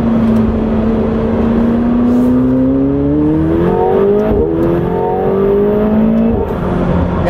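A McLaren 720S sports car engine pulls hard under acceleration, its loud rising drone climbing steadily in pitch through the gear, close and continuous without any talk.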